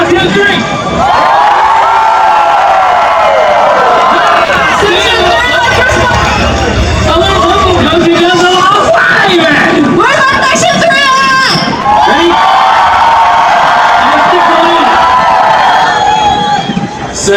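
A large grandstand crowd at a camel racing event screams and cheers loudly and continuously, with a dense roar of many voices, whoops and babble, plus an announcer's voice over it.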